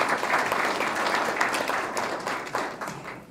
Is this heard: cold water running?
no